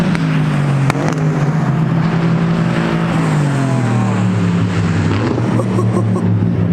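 An Aston Martin Vantage GT4 race car drives by on a damp track. Its loud engine drone rises and then falls in pitch as it goes past, a sustained, strong pass with a sharp click near the start.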